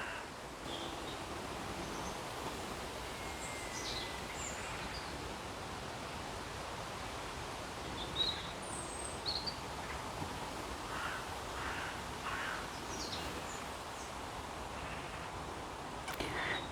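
Birds call intermittently outdoors against a steady soft breeze, with scattered faint chirps and caws over a constant hiss of moving air.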